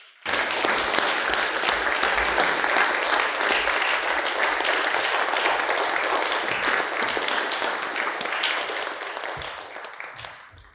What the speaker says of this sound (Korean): 큰 박수와 함께 연주자분들을 모시도록 하겠습니다